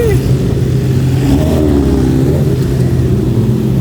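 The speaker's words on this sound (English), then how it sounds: "Rev it to distract the cops." A car engine revs hard and steadily at a late-night car meet, with a motorcycle nearby, the loud mid-pitched roar continuous and close throughout with slight pitch swells.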